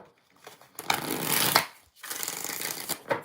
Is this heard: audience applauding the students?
no